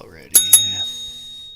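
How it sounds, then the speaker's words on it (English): A small bell is struck twice in quick succession at a fly tying bench, bright and close, with the ring fading out afterward. "And get the bell ready."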